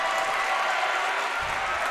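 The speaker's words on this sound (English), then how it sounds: "Greenwood crowd is very fired up right now." A high school basketball crowd in a gym cheers and applauds, a dense, continuous roar of clapping and shouts at close range.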